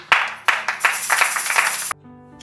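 A church congregation bursts into loud, rhythmic applause, sharp hand claps repeating steadily over a couple of seconds before cutting off abruptly.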